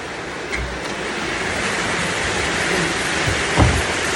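Heavy rain falls steadily on a farm as a dense, continuous hiss with a couple of brief low thumps, no voices over it.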